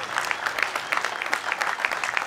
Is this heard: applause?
yes